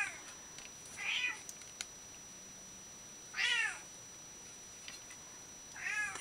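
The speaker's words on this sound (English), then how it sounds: "They say that's pretty normal with cats as they get older. They get more vocal." An elderly cat meows three times at spaced intervals, each call a clear rising-and-falling yowl at moderate loudness, with quiet room tone between and no talking.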